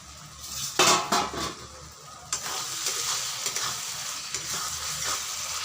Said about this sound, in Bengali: মশলাগুলোকে বেশ ভালো করে কষাতে হবে, না হলে মশলার কাঁচা গন্ধ করবে।